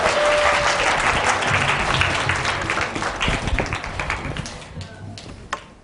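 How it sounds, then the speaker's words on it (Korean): Seminar audience of parents clapping together, loud dense applause that gradually thins and fades over several seconds, with a few scattered final claps and faint murmuring at the end. "이때 박수 한번 나오는데"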